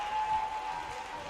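A wrestling crowd roars in a steady, dense wash of cheering and applause during a match, continuous and fairly loud throughout with no clear gaps.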